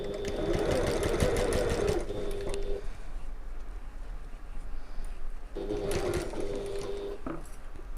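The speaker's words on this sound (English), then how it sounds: "you can always do an extra line of stitching along that box corner just to reduce the pressure on it" A sewing machine stitches a quilting cotton bag corner in two close bursts of rapid, whirring clatter, separated by a quieter pause with faint background noise.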